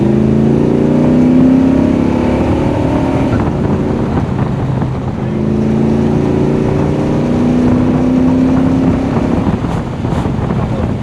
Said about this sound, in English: All I'm doing is revving the hell out of the engine